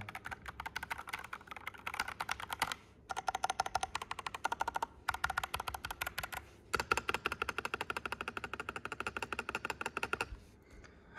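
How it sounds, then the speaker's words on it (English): Someone types on a Machenike KT68 mechanical keyboard in bursts of rapid, crisp key clicks separated by short pauses, close and clear with no talking. "I'll type on it a little bit more."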